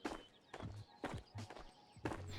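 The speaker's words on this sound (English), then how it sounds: "I heard the footsteps." Footsteps in the VR shooter Ghosts of Tabor, five or six faint, evenly spaced thudding steps with a soft scuffing texture, close by and alone.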